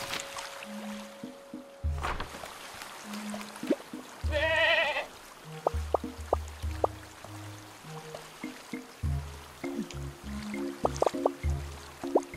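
A goat bleats once in the video game Carto, a short wavering cry over soft game music and ambient water sounds, with scattered plucked notes continuing around it.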